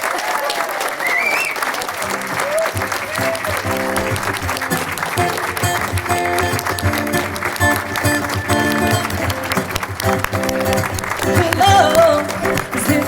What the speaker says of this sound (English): if we could have a big round of applause, Mr. and Mrs. Guthrie.